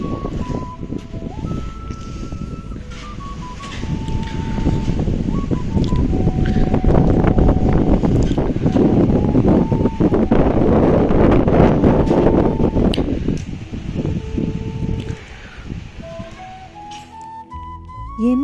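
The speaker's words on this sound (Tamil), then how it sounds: "நைட் பாருங்கள் வெளியே எவ்வளோ காற்றடிக்குதுன்னு." Strong night wind outside a house in Nuwara Eliya, Sri Lanka, roaring steadily and gusting against the microphone with rustling throughout, loud and continuous, while faint tones drift in and out beneath it.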